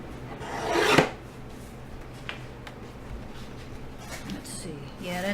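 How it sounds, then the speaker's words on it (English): Paper trimmed with a thin strip cut off while making a 4th of July mini album page, a short rasping cut followed by faint handling rustles, with talk throughout. "So I'm just going to trim off just a very little, like 1/8 of an inch"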